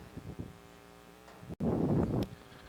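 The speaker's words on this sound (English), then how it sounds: "Wind's picked up. There's a gust." Wind gusting outdoors during a D2 men's rugby final between Little Rock and Tulsa, a broad rushing burst that swells loudly for under a second after quieter background murmur.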